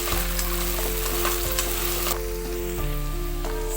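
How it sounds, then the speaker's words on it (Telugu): Moringa drumstick pieces sizzle in about two tablespoons of hot oil in a pan for a curry, a loud, steady crackling fry with occasional stirring clatter and a constant low hum behind it. "ఈ విధంగా మునక్కాడల్ని ఆయిల్లోకి వేసుకొని ఫ్రై చేసుకోవాలి ఒక 2 మినిట్స్"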